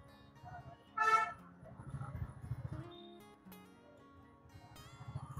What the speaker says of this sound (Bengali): তুমি এত হর্ন মারছো কেন?